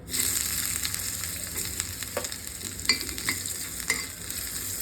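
Ginger sautéed in a pan, a steady close sizzle with a few light scrapes of a spatula stirring through it.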